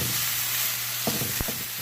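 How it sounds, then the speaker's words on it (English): Potatoes and cilantro sizzle steadily in a frying pan while being stirred, with a couple of brief scraping knocks from the utensil near the end over the constant close frying hiss. "you add the cilantro, just keep stirring and mixing it for maybe a good 5 minutes"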